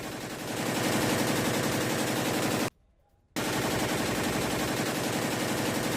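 A Ukrainian-made remote-controlled machine gun fires sustained, loud bursts of rapid automatic fire, broken by a brief silent gap before the shooting resumes.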